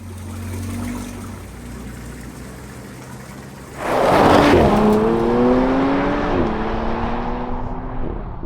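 A 2025 Audi SQ5 SUV with a V6 engine drives on a dusty road outside Marrakesh. Faint road noise gives way to a loud engine surge that pulls strongly and rises through several gear changes, close and without speech.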